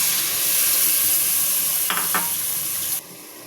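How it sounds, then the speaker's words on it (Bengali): Steady, loud sizzling of turmeric and chilli spices frying in hot oil, with a couple of brief stirring scrapes before the hiss drops off slightly. "মশলাটা ভাজা হয়ে গেছে"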